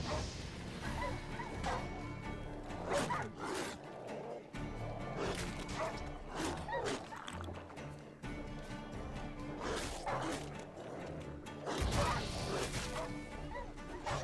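Dogs in The Witcher video game bark and yip repeatedly in short bursts over game noise, with some crashing hits mixed in and a player talking now and then.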